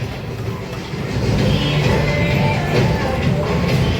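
A small children's ride-on train at a game zone rumbles and rolls along, its low steady drone swelling slightly as it passes nearby.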